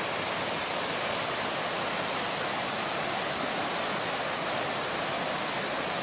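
Pearson's Falls, a waterfall between Tryon and Saluda, North Carolina, gives off a steady, broadband rushing roar that holds constant and fairly close, with no voices or other sounds breaking through.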